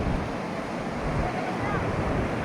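Surf washing onto the shore at Chennai's ECR beach in the evening, a steady broadband rush of waves mixed with wind buffeting the microphone, continuous and fairly loud with no clear breaks.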